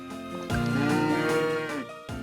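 Cattle moo loudly in the Story of Seasons: Friends of Mineral Town farming game, with a long drawn-out bellow followed by the start of another call. Nobody talks over the sound.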